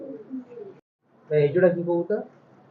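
High flyer pigeons giving soft low cooing calls in short bursts, close and clear, with a brief silent gap between phrases.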